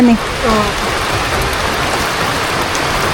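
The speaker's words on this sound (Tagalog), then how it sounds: "Kami lang po ni Kimay nagpapatila ng ulan." Steady broadband rain hiss fills the clip, with a brief voice-like tone at the very start before the constant downpour continues evenly.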